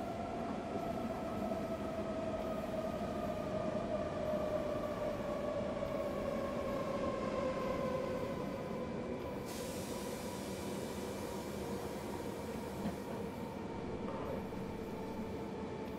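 Simulated S3 suburban train in Train Simulator 2018 braking as it runs into a station, with a steady loud rolling rumble and descending brake whine tones over the whole stretch and a brief hiss of air midway.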